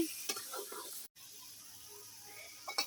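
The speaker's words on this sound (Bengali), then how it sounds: "এই মাংসটাকে এখন আমি ভালোভাবে কষিয়ে নিব।" Meat stir-fried in a pan gives a low, steady sizzle with a few scraping stirs, broken by a brief silent gap midway.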